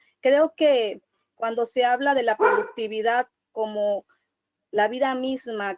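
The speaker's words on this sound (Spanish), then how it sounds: "Una disculpa por el perro" A dog barks in the background of a video conference, the short barks mostly buried under someone speaking steadily in Spanish.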